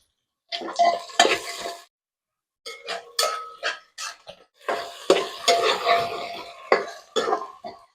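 Vegetables and peas being sautéed in a pan make bursts of close scraping and stirring with a light sizzle, broken by a silent gap and a few sharp knocks.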